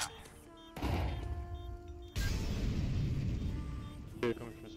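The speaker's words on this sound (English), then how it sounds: "Flashbang" A flashbang grenade goes off in a first-person shooter video game, with a sudden sharp burst followed by a second blast and a sustained loud rush of noise that fades slowly.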